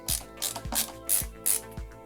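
Screw being driven into a 3D printed GPU holder, giving a series of roughly five clicking, ratcheting turns at a steady rhythm, close and fairly loud with no talk.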